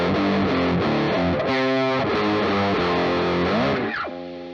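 Electric guitar chords played through a Big Muff style fuzz pedal with heavy gain, thick sustained distorted chords changing in a steady sequence, loud and close, ending on a sliding chord that rings out.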